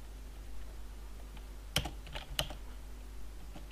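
A few quick keystrokes clatter on an English-layout computer keyboard during a World of Warships session, two short bursts of clicks close to the microphone over a steady low electrical hum.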